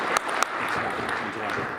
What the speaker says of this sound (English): the applause should go to Dan and the entire team at Interactive for putting on such a great event